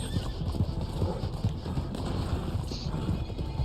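Horse hooves clip-clopping in Red Dead Online, a fast steady run of close hoofbeats over continuous game noise, with a brief whinny and a faint voice underneath.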